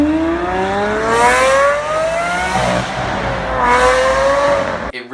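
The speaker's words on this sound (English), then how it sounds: "These exhaust systems provide a visceral, banshee scream that quite literally sounds like an angry Pagani Zonda" A Liberty Walk Lamborghini Aventador with a straight-pipe exhaust screams through two rising high-rev wails, each climbing in pitch before dropping off, loud and close with no voices.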